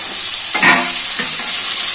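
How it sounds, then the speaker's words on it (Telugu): Boiled drumsticks fry in hot oil with a loud, close sizzle. Two sharper bursts of spatter and stirring rise over the constant hiss. "మునక్కాయ ఇట్లా వేయించుకుంటేనే బాగుంటుందండి"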